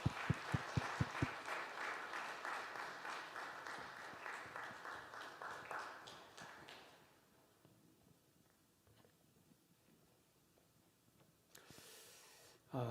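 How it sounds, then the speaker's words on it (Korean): Congregation clapping in a church to welcome an elder, a burst of dense applause for about seven seconds that thins and fades, leaving quiet room noise with a brief rustle near the end. "우리 감사의 박수 함께 하나님께 드리겠습니다"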